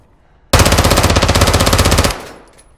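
Automatic weapon fire in the video game Call of Duty DMZ, a single loud rapid burst lasting about a second and a half, then a fading tail.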